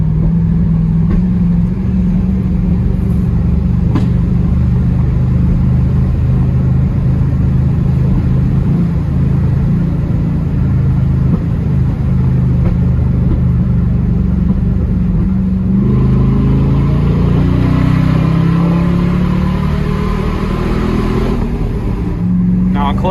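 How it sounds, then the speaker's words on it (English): Open exhaust cutouts on a Toyota Tundra pickup give a continuous deep roar that swells louder near the end with crackling pops, while a voice talks over the engine throughout. "You hear them cutouts roaring."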